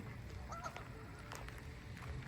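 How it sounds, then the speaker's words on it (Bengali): White ducks call at a lake, with a few short nasal honks and quacks at a distance, faint over a steady outdoor background. "এই হাঁসগুলো এইভাবে ডাকে সাদা হাঁসগুলো"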